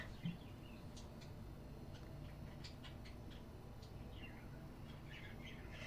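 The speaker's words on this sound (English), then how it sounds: "Yeah, their chirping is okay." Pet birds chirping indoors, faint short high tweets scattered irregularly over a low steady room hum, no talk during the chirps.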